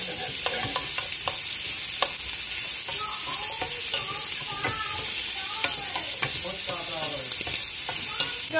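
Food sizzling and frying in a hot pan while being stirred, for Vietnamese pâté, a steady bright crackle with repeated scraping strokes of the utensil throughout, close and fairly loud, with no talking.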